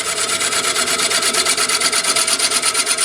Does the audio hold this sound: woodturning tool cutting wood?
yes